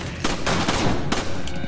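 Rapid gunfire in the co-op video game Resident Evil 5, with several sharp shots in quick succession over a loud, dense background of game sound. There is no speech.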